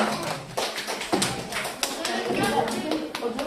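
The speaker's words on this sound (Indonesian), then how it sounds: "beri tepuk tangan untuk Zafran." Applause from a primary school class, a mix of children's claps and taps filling the room at close range, with voices chattering through it.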